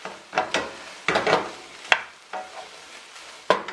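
A vegetable stir-fry is given a quick stir in a pan, several short scraping strokes with light sizzling between them, close and clear.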